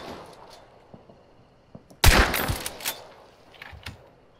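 Gunfire in Hunt: Showdown, a Wild West monster-hunting shooter: after quiet ambience, a sudden loud close gunshot bursts out, followed by a cluster of booming, reverberant shots and echoes that fade over a couple of seconds.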